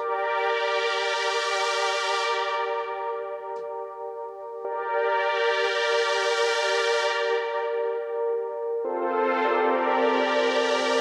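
Three long synth pad chords from the Daze preset, each swelling in, sustaining and fading through a filter sweep with a reverb wash, played solo with no talking.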